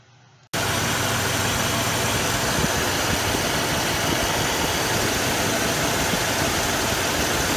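The engine of a 1981 Jeep CJ7 idles close by, kicking in abruptly after a brief quiet start, then holding a loud, steady rumble with no voices.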